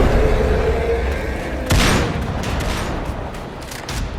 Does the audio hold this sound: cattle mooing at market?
no